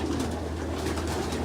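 Pigeon cooing nearby in a loft, a soft, continuous throaty coo repeating in low pulses over a steady background hum, with no talking.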